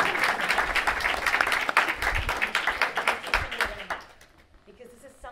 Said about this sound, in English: So join me in giving them an applause for the work they've done.